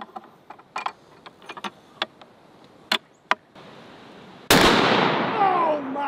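A 950 JDJ Fat Mac rifle, the world's largest sporting rifle, fires a single massive blast that ends a run of small metallic clicks and handling sounds, then its loud echo decays slowly.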